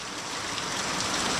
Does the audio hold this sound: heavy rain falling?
yes